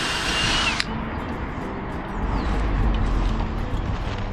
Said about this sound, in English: So take my pilot drill.